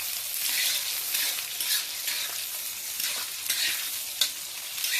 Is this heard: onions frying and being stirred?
yes